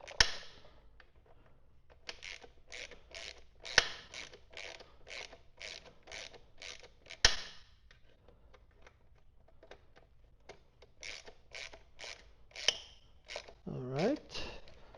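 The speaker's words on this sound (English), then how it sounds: "Not going to torque them all the way. Just going to snug them a little bit." A ratchet wrench snugs Loctite-coated bolts on a Black Dog skid plate for a BMW R1300GS Adventure 2025, with repeated quick bursts of close clicking separated by short pauses and a few sharp metallic taps.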